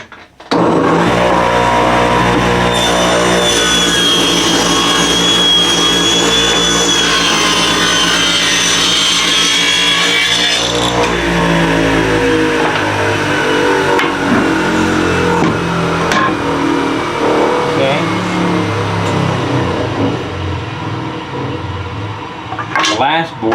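A power saw cuts through a wooden board for a four-inch cut, a loud, sustained whining rasp that holds for about ten seconds, then eases into a lower running hum before stopping.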